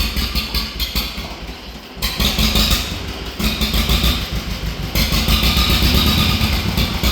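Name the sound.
old tractor engine idling with choke off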